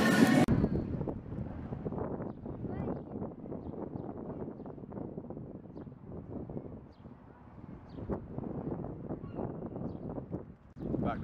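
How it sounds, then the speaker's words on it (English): Blustery wind buffeting the microphone at a harbour where boats are lifted for repair, a steady rushing roar that lasts throughout with gusts rising and falling. "it's quite noisy and windy"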